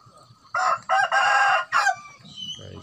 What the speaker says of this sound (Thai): นี่เป็นไก่ชน